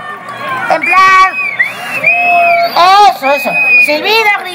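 A live audience in Alcorcón whistling and shouting for the performer Francesco: several long, sustained whistles cut through a mix of excited cheers and yelps from many nearby voices.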